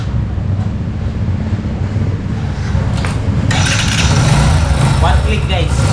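A 2024 Kawasaki CT125 Bajaj motorcycle starting on the first press and settling into a steady idle, heard close under wind noise after the choke is set.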